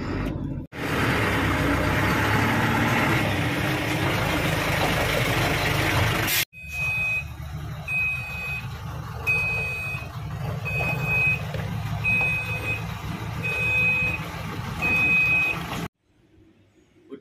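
A Forland Grower L7 4x2 forward dump truck with a 6.5 cubic meter body idles with a steady engine rumble while a regular, repeating reversing beep sounds over it.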